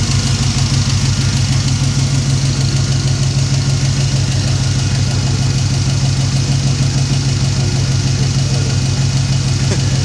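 A 1968 Pontiac V8 fitted with a Holley Sniper fuel injection unit idles loudly and steadily up close, a deep continuous rumble with a faint ticking knock running through it the whole time.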